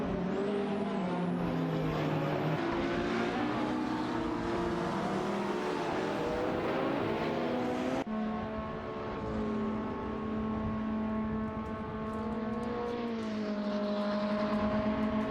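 Race car engines in an AI-driven racing video game, including a Ferrari and a Lamborghini Murcielago, droning continuously with shifting revs and gear changes, loud and layered throughout with no talk.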